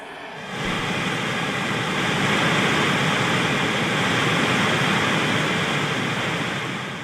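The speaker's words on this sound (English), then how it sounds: "Next, I will show you pink noise through the pickups," Pink noise played through electric guitar pickups with 20 feet less cable forms a constant, dense broadband hiss that fades in after a brief start and holds steady without voices.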